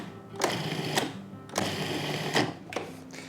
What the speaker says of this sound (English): we can pulse the machine just to mix all of these dry ingredients